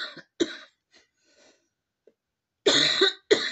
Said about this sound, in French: Alors excusez-moi si je tousse